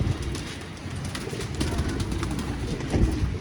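Pigeons, kept by a fancier in Jamshedpur, Jharkhand, coo softly and continuously against a dense low rumble of background noise, with no clear pauses through the stretch.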